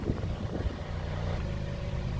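A Mazda Miata NC running on its stock exhaust, warmed up and holding a steady low idle with a smooth, even drone and no voices.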